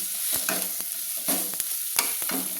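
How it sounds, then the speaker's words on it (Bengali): Ground spices stirred in hot oil in a pan for a yam and prawn curry, a constant sizzle broken by repeated scraping strokes of a spoon, close and fairly loud, with no voices. "ভালো করে আমি মশলা করে তেলের মধ্যে নেড়ে নিলাম"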